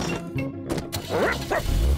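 A big cartoon dog from a Spanish-dubbed Peppa Pig episode barks a few times in quick bursts, loud and close, mixed with short bumps and cartoon effects.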